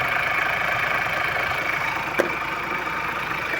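A Ford engine idles roughly with one spark plug wire pulled, giving a steady, uneven mechanical drone that runs throughout with a single brief knock partway through and no voices.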